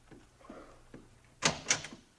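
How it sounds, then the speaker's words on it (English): A house door in a radio drama, a few soft thuds and then two sharp knocks or latch clacks close by, with no talk over them. "There's someone at the door."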